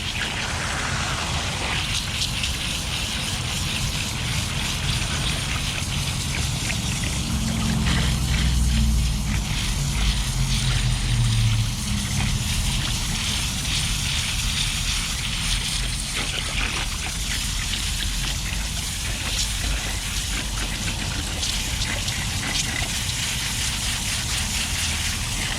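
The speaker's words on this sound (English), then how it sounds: "Water on our tie-dye." Water pours steadily over a tie-dye shirt during rinsing outdoors early in the morning, making a continuous splashing hiss with a heavier gush partway through.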